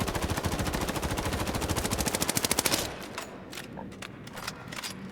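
A rifle firing in automatic bursts in the video game Highguard, a fast, even stream of loud shots lasting about three seconds, then quieter clicks and handling sounds.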